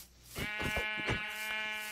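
Sheep bleating in the video game Minecraft, one long wavering baa that holds clear and loud for about two seconds with no talk over it.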